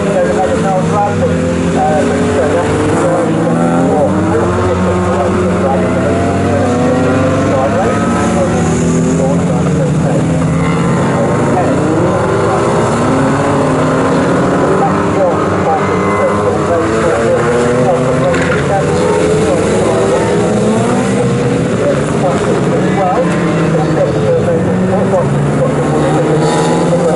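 BMW Car Club race cars run along the Snetterton straight, their engine notes rising and falling in overlapping whines and drones as a commentator talks steadily over the action.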